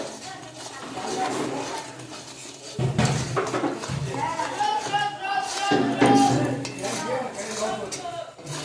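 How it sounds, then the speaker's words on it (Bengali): A pot of sweet jujube pickle being stirred with spices, a spoon scraping and clinking against the pot in uneven bursts while someone talks over it. "মশলাটা দারুণ ছিল তিন চামচ মতো দিয়েছি আবার সুন্দর করে নেড়ে নেব"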